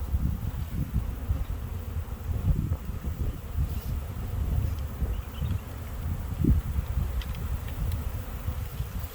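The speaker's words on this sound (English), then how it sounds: "standing here in the middle of all these bees swarming" A dense, steady drone of many bees buzzing close by, continuous throughout with faint outdoor rustle and light wind in the background.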